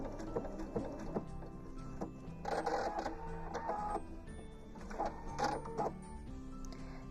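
A sewing machine stitches a thin zigzag while couching yarn on an art quilt, then ties off, giving bursts of rapid mechanical chattering with brief pauses between runs, close and fairly quiet.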